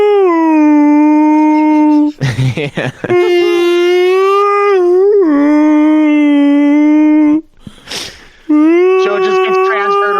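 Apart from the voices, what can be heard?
wolf howl songs from the video game Twilight Princess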